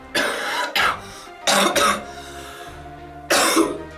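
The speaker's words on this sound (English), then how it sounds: "Let the coughing montage begin." Several loud, harsh coughs in separate bursts, a pair near the start, another pair in the middle and one more near the end, with quiet gaps between.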